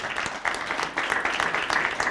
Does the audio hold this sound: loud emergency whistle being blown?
no